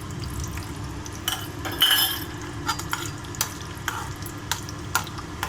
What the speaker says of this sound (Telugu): ఇప్పుడు కాజు కిస్మిస్ ఫ్రై చేసుకున్నాము.